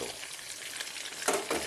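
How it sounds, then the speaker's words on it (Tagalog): Steady crackling sizzle of chicken fillet frying in hot oil over low heat, close by, with a brief louder stir or scrape toward the end. "Kailangan mahinang apoy lang para maganda po ang kanyang pagkaprito."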